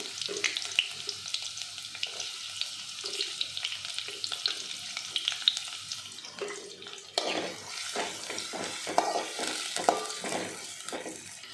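Thinly sliced medium onion hits hot oil with whole spices in a pan for soya chunk biryani, giving a steady close sizzle with stirring scrapes that grows busier partway through.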